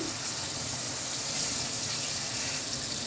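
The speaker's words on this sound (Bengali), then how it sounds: "এখন জল দিয়ে দিচ্ছি পরিমাণ মতন" Water pours steadily into a pan of fried eggs and potatoes, a continuous close rushing splash that holds at an even level throughout with no talk.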